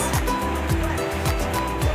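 Ocean waves wash in a steady, loud rolling roar with a rhythmic low pulse, and no voices are heard.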